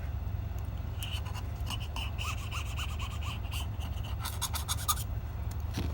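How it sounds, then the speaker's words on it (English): Leftover adhesive is scraped off the frame edges of an iPhone 8 during a screen repair, heard as soft, close, irregular scratching and rubbing strokes over a quiet background hum. "I'm going to go around and remove any leftover adhesive around these edges"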